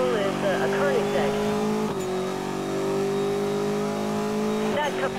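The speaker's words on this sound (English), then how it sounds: "Wanted vehicle is a Koenigsegg." Koenigsegg supercar engine in a police chase game, a steady high droning rev with pitch dips and short shifts, close and loud, under a radio dispatcher's voice.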